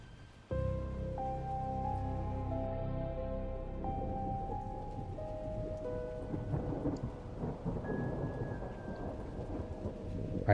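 A stormy night thunderstorm: a deep thunder rumble starts abruptly and rolls on, with steady rain falling throughout, and the rain patter growing more prominent and crackly toward the end.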